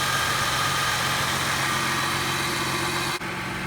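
A 2004 Ford Mustang convertible's 3.9 liter V6 idles with the hood open, a loud, even, steady engine hum heard up close, broken by a brief dip near the end.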